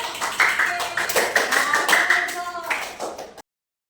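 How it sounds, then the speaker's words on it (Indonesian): Fifth-grade class clapping for a student group in a classroom, a burst of hand claps lasting about three seconds with children's voices mixed in, then stopping abruptly. "beri tepuk tangannya untuk kelompok 3"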